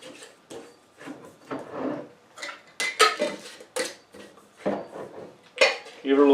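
A lidded glass jar of pear liqueur with a piece of cinnamon is shaken, giving rapid bursts of sloshing liquid and rattling knocks, close and fairly loud, with short pauses between the bursts.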